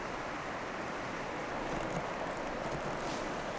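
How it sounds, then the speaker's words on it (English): Steady broadband rushing roar of a river below a hiking trail near a ghost town, continuous and fairly loud, with a touch of wind noise and no voices. "Here, a river rumbling down there"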